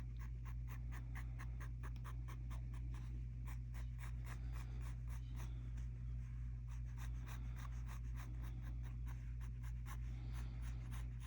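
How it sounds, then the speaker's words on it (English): A pencil is drawn lightly over paper, laying in circles for a small mandala grid; soft, rapid scratchy strokes repeat steadily throughout, close and quiet against a low, constant background hum. "I'm going to go ahead and take my pencil and draw those in lightly"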